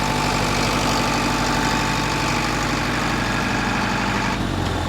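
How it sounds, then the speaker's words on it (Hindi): A 40 kVA Chadha generator set on a big-tyre trolley runs with a loud, steady engine drone and low rumble, then the pitch drops as it is switched off near the end. "ये यहाँ से जनरेटर बंद होगा।"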